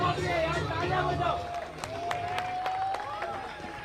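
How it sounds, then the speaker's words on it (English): Crowd clapping and cheering for the winning team at a Regent Premier League prize distribution, a steady wash of many hands with scattered sharp claps and voices talking over it. "Please clap for the winning team."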